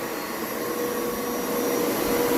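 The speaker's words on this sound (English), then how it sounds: "And then just keep vacuum moving" A Hoover Spin Scrub 50 FH50150 carpet cleaner runs steadily with a constant loud motor whine and airy suction roar, unbroken and close, with no talking.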